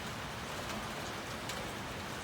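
Light drizzling rain falls outdoors, a soft, steady hiss of fine droplets with a few brief louder patters, quiet and unbroken, with no voices.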